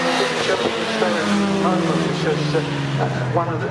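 MG race cars in the MGCC Cockshoot Cup at Cadwell Park circuit roar past in a continuous, loud engine drone with shifting pitch, while a commentator talks over it.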